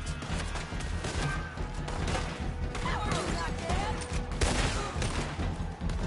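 Gunfire in Red Dead Redemption 2 rings out as a dense fusillade of shots and crashes, loud and continuous across the stretch with a busy mix of other game sounds.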